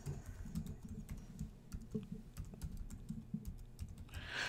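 Quiet, steady typing on a computer keyboard as an email address is entered, with rapid soft key clicks throughout and no talking.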